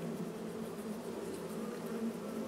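Continuous drone of a swarm of bees around hives in Farming Simulator 22, a steady close hum without pauses or voices.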